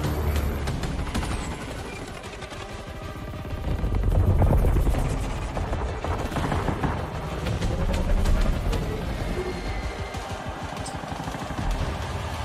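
A helicopter in the Battlefield 2042 video game trailer drones steadily with a throbbing rotor, swelling louder twice, while bursts of gunfire crackle through the mix.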